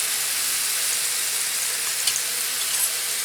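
Food sizzling on a small electric mini plancha griddle, a steady close hiss of frying with faint crackles and a couple of soft pops, no voices.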